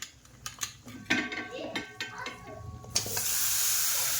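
Marinated food is stirred and sautéed in a pan. A spoon scrapes and clinks against the metal in irregular strokes over a sizzle, which swells into a steady loud hiss near the end.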